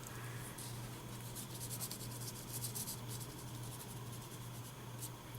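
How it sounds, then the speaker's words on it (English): A finger rubs Stickles glitter glue around on a card, making a soft, continuous scrubbing and rasping sound with quick repeated strokes, quiet and close, over a low steady hum. "use your finger and kind of scrub it around with your finger to spread the glitter"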